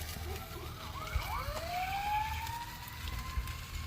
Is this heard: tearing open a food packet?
no